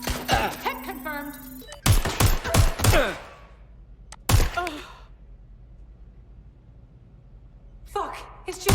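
Gunfire erupts in Watch Dogs Legion, short clusters of sharp shots and impacts separated by quiet gaps, with a brief voice at the start and more sounds at the end.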